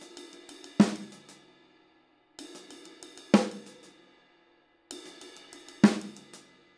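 A drum groove of a double paradiddle followed by a paradiddle, spread across ride, hi-hat and snare, repeats three times with light cymbal and snare strokes building to a sharp accented hit, then decaying into short gaps.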